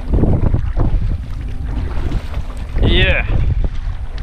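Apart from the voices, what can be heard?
wind at sea while paddling a fishing kayak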